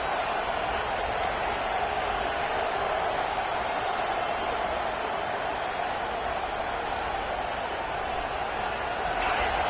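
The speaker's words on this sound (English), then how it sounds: "this crowd coming to life here, trying to help the defense get a stop with the offense pinned back" Stadium crowd at a football game roars in a steady, dense wash of cheering and noise, loud and continuous throughout with no gaps, as the defense tries to get a stop.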